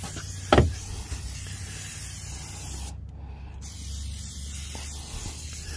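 TEK TIPP Mudslinger is sprayed into a truck's front wheel well in sloppy snow, giving a single short aerosol burst followed by a steady low hiss and outdoor background noise.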